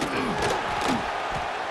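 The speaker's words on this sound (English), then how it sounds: "this crowd is feeling themselves after that last drive" Stadium crowd in the College Football 26 video game during a Miami versus NC State matchup, a steady, dense roar of cheering fans filling the space continuously throughout.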